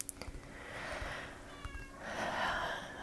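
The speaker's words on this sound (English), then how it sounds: "If you hear that meowing, it's one of my cats." A cat meows twice, each a drawn-out, fairly loud cry, heard close up against a quiet room with a few small knocks at the start.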